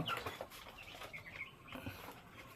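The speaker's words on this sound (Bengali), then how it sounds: "সোনালি মুরগি এখানে রাখা আছে ডিমের জন্য" Faint, scattered clucks and soft rustling come from Sonali chickens kept in a rooftop coop for eggs, heard at a distance with no talking.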